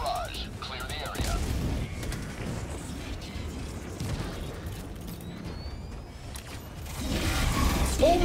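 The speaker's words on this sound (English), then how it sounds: "Firing orbital barrage." An orbital barrage in Helldivers 2 lands as scattered booms and mechanical clatter, moderately loud and continuous, with voices talking over the strikes.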